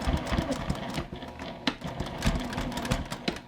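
A sewing machine stitches a scrappy quilted pumpkin pot holder at a short compact stitch length, a fast steady mechanical whir with rhythmic needle clatter, close and continuous, briefly easing off near the middle.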